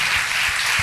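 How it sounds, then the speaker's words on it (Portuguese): Applause from an audience at a church congress, a dense wash of clapping that holds steady and loud through a brief moment. "Gostaria que você aplaudisse ao Senhor pela vida dele."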